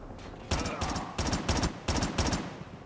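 Rapid bursts of automatic gunfire from Call of Duty: Mobile's Gun Game mode, five or six sharp, loud volleys in quick rhythm, close and dominant.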